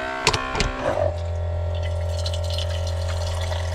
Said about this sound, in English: Faucet, we'll figure out where to put that, but just to test it out.